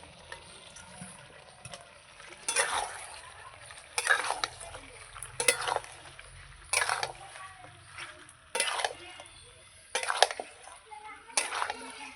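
Fried potatoes being stirred into kasha mangsho (slow-fried Bengali spiced meat with tomato) in a pan, giving repeated scraping stirs in bursts about every second and a half over a faint sizzle, close and moderately loud.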